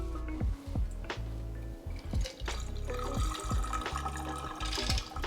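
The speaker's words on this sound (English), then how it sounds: "we're gonna pour the cocktail" Cocktail being poured for an Old Fashioned, liquid splashing and dripping close by in a steady run with clinks, alone without talk.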